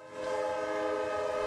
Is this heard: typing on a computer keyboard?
no